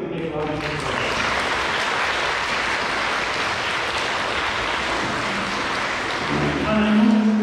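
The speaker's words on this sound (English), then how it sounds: "so let's give a big round of applause" A church congregation at a weekday Mass gives a loud, dense, sustained round of applause, with a voice briefly audible at the start and again near the end.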